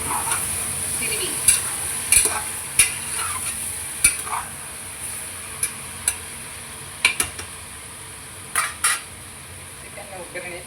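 Chicken for biryani is stirred in a hot pan with onions, a metal spoon scraping and clinking against the pan in irregular taps over a continuous soft sizzle, with no voices.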